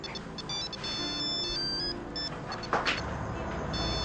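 A mobile phone ringtone plays a steady electronic melody of high repeating tones throughout, with a brief noisy burst near the end, over a low background hum in an Indonesian household scene.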